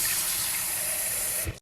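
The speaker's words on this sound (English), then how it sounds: "But I'm going to add a little water in here." Water pours steadily into a cooking pan while pepper steak is being prepared, a continuous close splashing rush lasting about a second and a half before it cuts off, with no talking.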